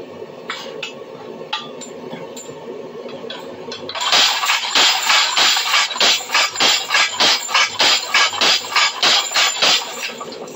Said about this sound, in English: Great about this design of treadle hammer.